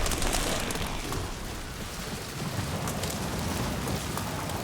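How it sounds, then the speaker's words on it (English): A thunderstorm in the video game Marathon, with heavy, steady rain pouring down and a low rumbling of thunder underneath, dense and continuous throughout. "Luckily there's a thunderstorm going on, so it can cover up some of my running push."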